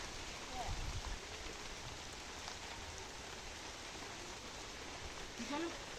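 Rain falls on Black Bengal goats and their shelter as a soft, continuous hiss of drops. It is fairly faint and steady, with brief bits of nearby talk and shuffling over it.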